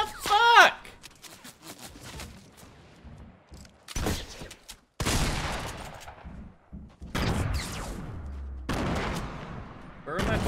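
Gunfire in Fortnite Battle Royale: several loud bursts of rapid shots spread through the stretch, mixed with excited players talking over the action.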